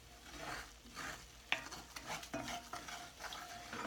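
A spoon stirs flour toasting in a hot pot for gravy, with soft scraping strokes and a faint sizzle, plus a few light clinks against the pot.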